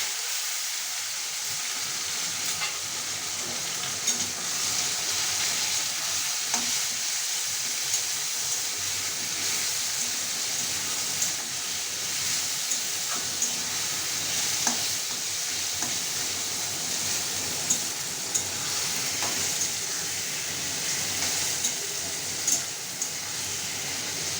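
Chopped papaya and tomato pieces fry steadily in a pan for mutton khichuri, a continuous soft sizzle with occasional stirring scrapes and light clinks, no voices.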